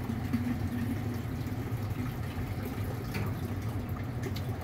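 Water flows steadily inside a Clack WS1CS water softener valve during a teardown, a faint, continuous hiss and trickle with slight gurgles and no talking.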